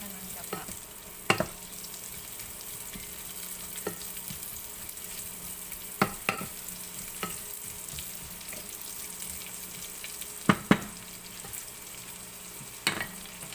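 Onions sautéing in a pan while cooking Bicol Express laing, a low steady sizzle under scattered sharp clinks and scrapes of a utensil stirring against the pan, with no talking.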